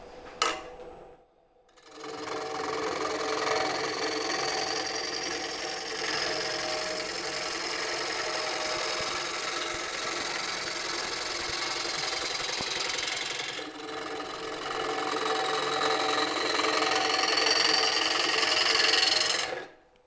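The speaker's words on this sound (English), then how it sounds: "All right, with the lathe running," A wood lathe runs steadily while turning a wooden piece, giving a continuous moderate whirring hum with a brief pause near the start and a quiet break mid-way, with no talking.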